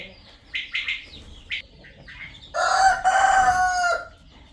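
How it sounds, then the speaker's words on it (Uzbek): A loud, close crow from a Kuchinskiy Jubilee rooster rings out after a few short clucks and chirps, its call stretching over a second and a half. "Mana xo'rozlariga ayniqsa, mana zalatiskiy chiroyli xo'rozlar."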